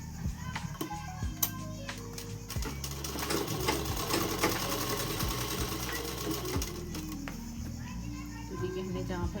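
A sewing machine stitches a dress neckline in short, stop-start bursts, fairly close and moderately loud, with background voices and children's sounds in the room.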